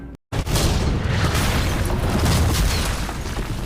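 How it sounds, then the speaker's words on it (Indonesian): A cannon blast smashes through a wall with a sudden heavy boom that rolls into a dense, sustained roar of crumbling debris, loud and close, following a brief instant of silence. "menggunakan meriam"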